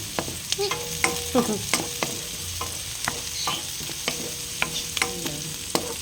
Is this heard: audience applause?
no